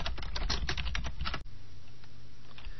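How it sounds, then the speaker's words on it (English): Rapid keystrokes clatter on a computer keyboard in a quick, uneven burst of close clicks for about a second and a half, then stop, leaving quiet room tone. "In the Title box, type Enter Limit."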